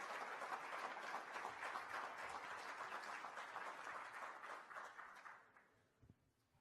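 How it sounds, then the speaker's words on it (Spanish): An audience at an international education conference applauds to welcome a university regional director, steady clapping that holds for several seconds and then tapers off into near quiet. "Nuestro caluroso aplauso para saludar al director regional de la Universidad Indira Gandhi"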